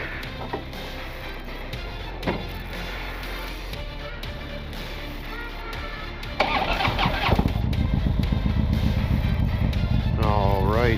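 A Harley-Davidson CVO motorcycle cranks and fires up, its engine jumping to a loud, deep, steady idle after a quieter stretch, with a voice talking briefly near the start.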